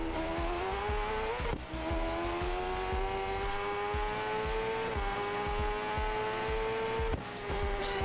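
A motorcycle engine in the Rims Racing video game runs loud and sustained, its pitch rising and falling as it revs, with sharp exhaust pops and crackles breaking through at intervals and no talking.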